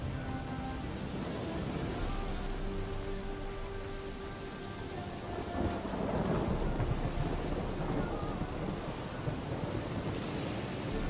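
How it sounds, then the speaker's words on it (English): A thunderstorm in The Witcher 3 video game: heavy steady rain and wind hiss with low rolling thunder swelling midway, dense and loud throughout, no voices. "Storm, damn it."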